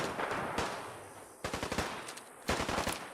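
Fallout 4 gunfire comes in quick automatic bursts of rapid shots, three separate volleys with short pauses between them, fairly faint overall.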